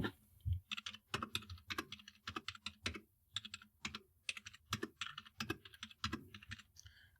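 Numbers are typed at random on a computer keyboard, a close run of crisp key clicks in quick bursts with brief pauses, and no voices.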